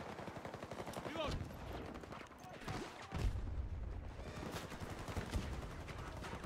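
Rapid gunfire in the video game Battlefield 2042, dense bursts running through most of the stretch over game noise, with a heavier boom near the middle and players talking faintly underneath.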